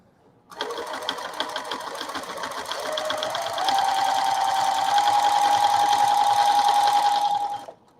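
A sewing machine runs straight stitching lines over couched yarn on a quilt, a close, steady, fast mechanical whir that speeds up midway and holds an even pace before stopping.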